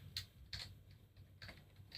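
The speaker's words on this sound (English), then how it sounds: "whoops, I'm typing that the wrong way around." A few quick keystrokes on a computer keyboard, roughly five light taps in irregular rhythm, close and faint against a quiet background.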